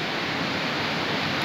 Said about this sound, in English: I have arrived at the waterfall